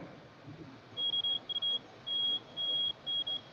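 Steady electronic warning beeping from a truck going off speed, at one high pitch, a run of intermittent tones with uneven gaps, fairly faint over a low background hum.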